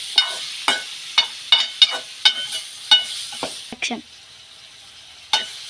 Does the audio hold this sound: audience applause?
no